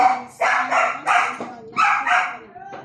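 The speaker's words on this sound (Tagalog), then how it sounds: "sorry lang ha guys, may aso ako" A dog barks repeatedly in close, loud bursts with short gaps, a few yips trailing off at the end.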